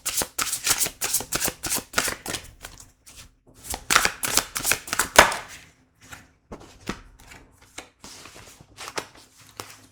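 Large oracle cards are shuffled by hand in repeated quick riffling bursts, crisp and close, with short pauses between rounds and quieter shuffles toward the end.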